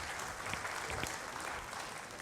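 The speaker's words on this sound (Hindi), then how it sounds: "प्लीज तालियां हो जाएं" Audience applause fills a hall at an evening event right after a stage performance, steady dense clapping throughout with no talk over it.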